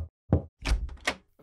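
Knocking on a door: a few firm, close raps in an uneven rhythm, loud and clear against silence.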